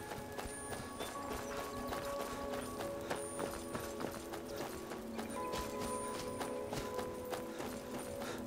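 Horse hooves in The Elder Scrolls V: Skyrim Anniversary Edition clop in a quick, regular beat throughout, close and clear over soft in-game background sound.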